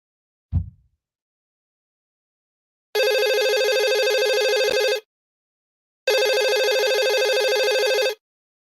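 A telephone rings with two long electronic bursts separated by a short silence, each about two seconds, loud and clear, preceded by a brief soft knock.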